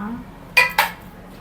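A spoon stirs salted coconut milk rice in a metal pot, giving two quick, close clinks against the side in an otherwise quiet moment.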